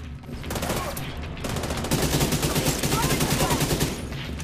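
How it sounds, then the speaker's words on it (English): AK rifle fire in the shooter game The Division 2, loud rapid automatic bursts with a short pause, then a sustained stream of shots close up and alone. "Just melt people with my AK."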